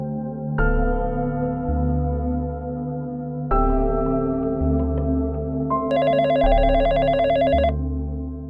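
Telephone ringtone for an incoming call, loud and close, repeating in three electronic melodic bursts with short gaps and a brighter, higher final phrase.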